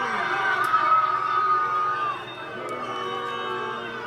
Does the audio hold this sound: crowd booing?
yes